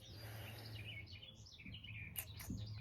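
Birds chirp and trill outdoors, several short high calls scattered over a low steady hum, fairly faint and with no talking.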